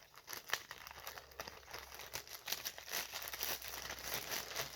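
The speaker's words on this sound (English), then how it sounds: "we're going to put it in our plastic bag" Plastic bag crinkles and rustles up close, bursts of crackly rustling as it is handled and folded, with no talking.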